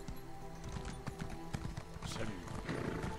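Horse hooves clop in a steady, fairly close rhythm while riding through The Elder Scrolls Online, mixed with game music and ambient background sound.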